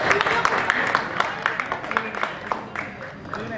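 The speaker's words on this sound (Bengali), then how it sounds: "জোরে হাততালি হয়ে যাক, শিলাদা এসে গেছে" Audience applause at the trailer launch of the Bengali film Surjo: a run of quick, crisp claps rises out of crowd noise and carries on under a voice talking over them, moderately loud in a room.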